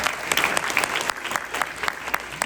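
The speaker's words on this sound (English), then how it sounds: "yes, absolutely, round of applause" An audience claps in a steady round of applause, with individual sharp claps audible within the dense crackle, fairly close and even throughout.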